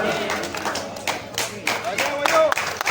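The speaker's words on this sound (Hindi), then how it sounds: "तालियां बजती रहनी चाहिए हमारे विनर्स के लिए" Scattered clapping from a small crowd for the winners of a pageant, uneven and lively, with voices mixed in underneath.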